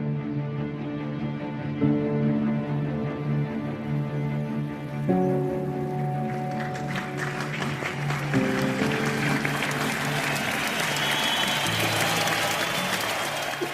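Crowd of nearly 3,000 outside the White House in 1865 cheering and applauding; soft tonal music plays first, then a broad, sustained roar of clapping and cheers swells in and holds to the end.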